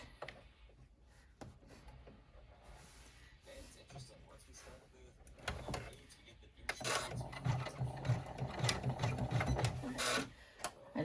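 An embroidery machine stitches a striped clutch, its needle mechanism whirring and rapping in a steady, close rhythm that grows louder and busier partway through, with faint handling noises around it.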